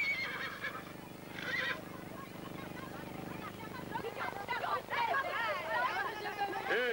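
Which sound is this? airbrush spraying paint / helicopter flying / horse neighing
horse neighing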